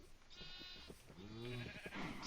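Sheep bleat in the video game Minecraft, several wavering cries in close succession, fairly loud and near, with light game sounds around them and no talking.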